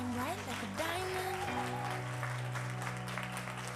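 Conference audience applause at a Paris success-day event, a soft, dense patter of clapping running under a sustained musical tone and a voice that slides in pitch.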